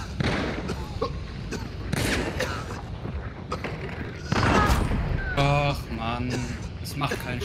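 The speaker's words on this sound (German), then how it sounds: "Immer Shotgun-Schüsse" Shotgun blasts ring out in the video game Hunt: Showdown, a scattering of loud, sharp shots over several seconds, mixed with game noise and players talking.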